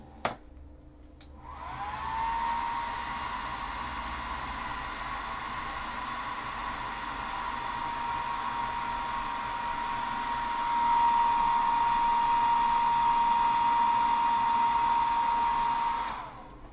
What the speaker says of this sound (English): I'm going to go off camera for 1 second to hit this with my handy dandy blow dryer.